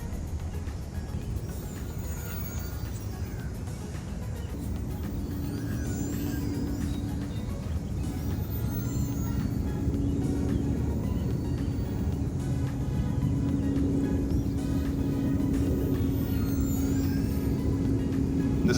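A small Eachine F4U Corsair RC airplane in flight gives a steady electric motor whine that rises in pitch midway and holds, heard continuously over a broad wind-like outdoor rush without talk.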